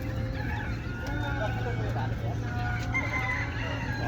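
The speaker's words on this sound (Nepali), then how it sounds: "यहाँ यो के सबै कुखुराहरू, चल्लाहरू, हाँसहरू," Chickens and roosters crowd a local poultry market where ducks and chicks are also sold, with repeated clucking and crowing over a steady low hum and some talk in the background.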